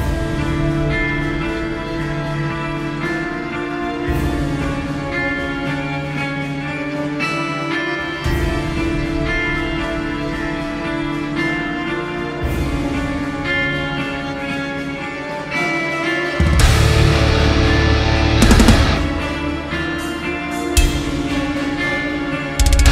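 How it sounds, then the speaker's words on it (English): A dense full-band rock mix with heavy 8-string Schecter electric guitar, steady and loud throughout, swelling with crashing cymbals near the end. "show you what the guitar sounds like in a full demo mix first and foremost"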